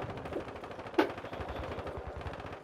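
Rapid gunfire rattles in a video game, with a steady stream of automatic shots and one sharper crack standing out partway through. The firing is moderately loud and there is no talking.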